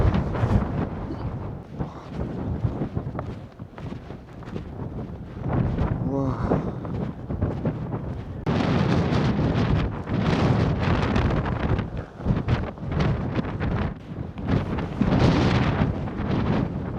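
Strong wind gusting across a mountain peak on Madeira, a loud, continuous roar buffeting the microphone that surges harder in the second half, with voices talking briefly underneath.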